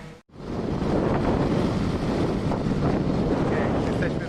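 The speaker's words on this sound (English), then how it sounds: "The wind is incredible." Strong wind buffets the microphone outdoors in subarctic northern Quebec by Kuujjuaraapik, a loud, steady roaring gust that starts after a brief dropout and continues throughout, with faint voices under it.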